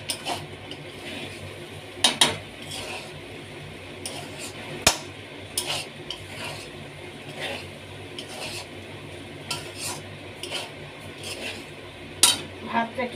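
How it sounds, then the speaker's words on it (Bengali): Rice is stirred and fried in oil in a pan, with a continuous low scraping and rustle. Scattered sharp clinks of a metal spatula against the pan sound up close. "ভাতটাকে ভেজে নিচ্ছি।"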